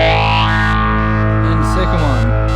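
Electric guitar played through a Phase 90 phaser pedal into an amp simulator, a sustained distorted chord with a slow sweeping, swirling tone, loud and close, with no talking.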